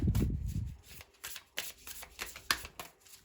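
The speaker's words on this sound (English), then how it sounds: "I'm gonna shuffle 2 more cards" Tarot cards being shuffled by hand, a quick series of crisp riffling snaps and soft paper flutters, close and fairly loud, with a low thump at the start and no voice.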